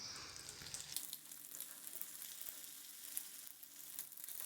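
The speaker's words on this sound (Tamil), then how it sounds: "நம்ம கோட் பண்ணி வச்ச எல்லா முட்டைகளையும் நம்ம போட்டு ஃப்ரை" Steady hissing sizzle of masala-coated eggs frying in hot oil, close and continuous for a few seconds with a faint crackle throughout and no voices.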